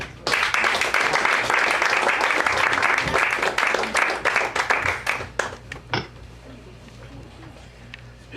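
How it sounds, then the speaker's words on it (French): A crowd applauds to welcome a slam poetry performer at an evening show, loud dense clapping for about five seconds that thins out into a few scattered claps and fades to quiet room noise. "On applaudit."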